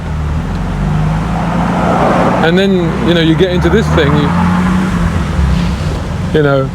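A classic manual-gearshift car's engine hums steadily while driving, with road noise throughout, while someone talks briefly over it in the middle.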